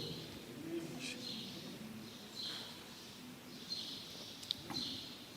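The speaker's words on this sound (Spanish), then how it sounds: "Mira, los pajaritos están alegres." Birds outdoors coo softly and chirp in short, scattered calls at moderate distance, with light high twittering over a steady background hiss; no talking.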